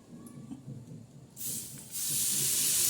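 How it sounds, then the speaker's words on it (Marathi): Hot oil poured onto mango pickle masala, a faint low murmur suddenly giving way to a loud bright sizzling hiss that pauses briefly and then continues steadily. "आता बघा हे तेल आपण टाकणार आहोत."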